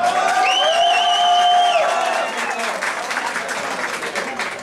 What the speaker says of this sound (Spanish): Aplausos también para David Trejo